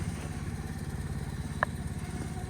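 A 2011 Microcar M-Go SLX engine idles with a steady low putter, a rapid even chug at moderate volume, with one brief click partway through.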